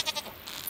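A goat bleats in Stardew Valley, a few short wavering cries close together, clear and alone with no talk.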